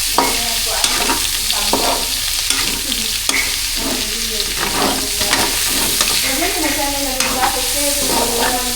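Pork fat being stirred in a pan, with a steady loud sizzle of frying under repeated scraping and clattering stirs that continue throughout, and no talking.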